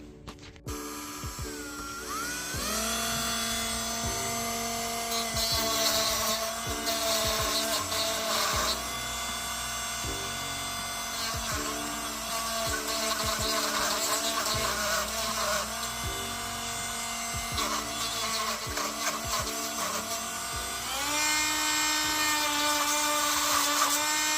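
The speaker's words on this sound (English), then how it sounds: "now we have to Dremel down those 3 plastic nubs sticking out so we can take this rubber piece off" A Dremel rotary tool grinds down plastic nubs on the firewall of a 2000 Ford Mustang GT, producing a loud, continuous high whine that shifts pitch as the bit bites and eases, close up throughout.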